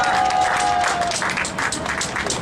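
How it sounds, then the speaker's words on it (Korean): Audience applause rings out at an outdoor candlelight rally held in support of striking workers. The clapping is dense and sustained, fading slightly toward the end, with no voices over it. "최종천 시인, 다시 한번 큰 박수 부탁드립니다"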